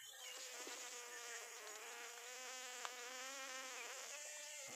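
Dense, steady buzzing of many honeybees swarming around an open honeybee nest found in a garden, a close and continuous drone with no talk.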